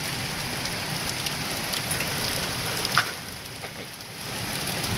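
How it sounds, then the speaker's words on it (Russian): Hail falls outdoors in the evening as a dense, steady patter of pellets striking surfaces, with one slightly louder nearby impact partway through, and no talking. "Оцените размер града."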